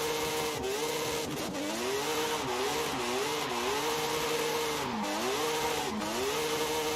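A rotary-engine drift car in Forza Horizon 5 revs continuously, its high buzzing engine note rising and dipping with throttle blips and brief cuts, loud and close throughout.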